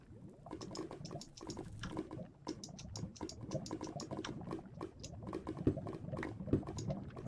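Lava bubbles in the Minecraft video game, a soft, continuous stream of small popping blips and gurgles, faint and steady throughout with no talking.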